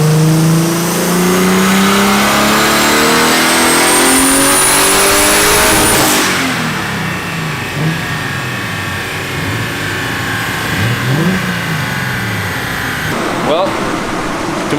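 A turbocharged car engine on a dyno, overboosting with a wastegate that fails to hold its pressure, revs hard in a loud climbing whine for about six seconds, then drops away and falls to a lower, uneven idle.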